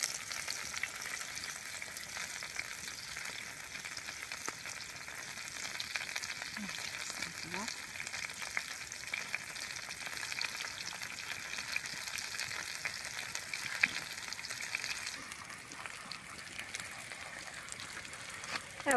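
Marinated meat and vegetables fry together in a pan, giving a soft, continuous sizzle with faint crackles throughout, fairly quiet and steady.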